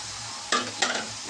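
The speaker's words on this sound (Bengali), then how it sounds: "এখন ভালো করে নাড়িয়ে আমি এখন কষাবো ভালো করে।" Flat beans and potatoes stirred into spiced fish curry masala in a pan, a steady sizzle broken by two scraping stirs of a spoon, close and moderately loud.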